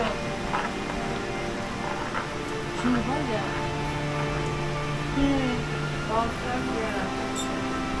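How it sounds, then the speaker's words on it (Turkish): Steady rain falls on beehives in a Kastamonu apiary, a soft continuous patter under people talking, with some bees or faint tonal sounds drifting through. "Yağmur yağıyor, görüyorsun bak"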